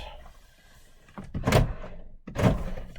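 The rear left door of a Mk4 car is worked at close range, giving two solid thunks about a second apart over a quiet background.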